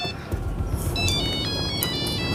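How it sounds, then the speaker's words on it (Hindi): An incoming call's phone ringtone plays loudly and close, a repeating melodic electronic tune with bright tonal notes, alone with no talking. "फोन आ रहा है किसी का।"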